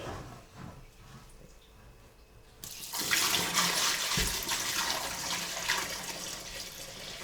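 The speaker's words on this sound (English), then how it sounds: "I'm gonna empty the rest down the plug hole" Water being poured out down a plughole: a quiet start, then a sudden steady rushing gush that carries on to the end at moderate loudness.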